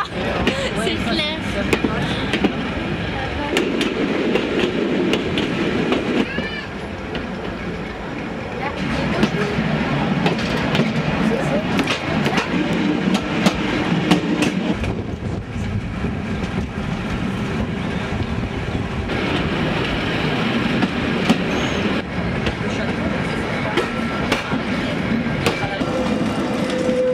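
A metre-gauge train rumbles along the La Mure railway line above the Drac gorges in the Alps, a steady continuous roar with wind buffeting the microphone throughout.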